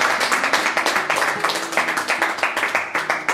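A small quiz crowd claps for the winner in a dense round of applause, steady and close throughout, with no voices.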